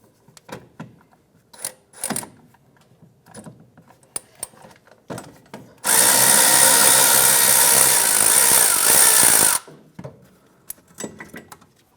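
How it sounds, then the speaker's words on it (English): A 10 millimeter bolt on an ABS wire bracket of a 2008-2013 Nissan Rogue is driven out with a loud whirring power tool burst lasting several seconds, framed by scattered ratchet clicks and metallic handling knocks. "I'm going to remove this 10 millimeter bolt holding our ABS wire bracket right here."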